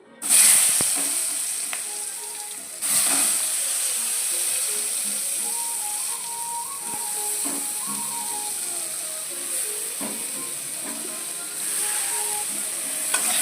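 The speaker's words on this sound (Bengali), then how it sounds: "বেগুন ভেজে নেব।" Pieces of brinjal sizzling in hot oil in a wok, a loud steady close hiss with occasional clatter as they hit the oil and settle, no talk.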